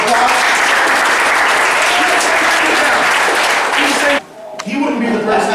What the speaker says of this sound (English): Give Christina a round of applause.